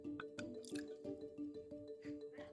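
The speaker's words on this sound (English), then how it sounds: "I'll pour it into the glass" Utica Club beer, America's first legal beer after prohibition, poured from a bottle into a glass, with gurgling, dripping liquid and faint glassy clinks over a steady low hum, close and moderately quiet.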